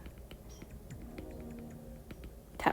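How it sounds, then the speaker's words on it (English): A stylus pencil taps lightly on an iPad screen during coloring, quiet irregular ticks in a soft run against faint room noise, ending with a louder rustle. "Tap, tap, tap, tap, tap of my pencil."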